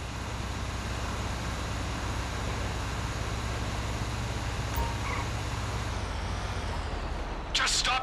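A truck in GTA 5 idles with a steady low engine rumble, then a sharp hiss of air brakes near the end as it stops, with voices talking over it.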